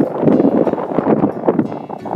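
Strong wind buffets the microphone in a steady, gusty roar at the bow of a ship heading out into the Aegean Sea.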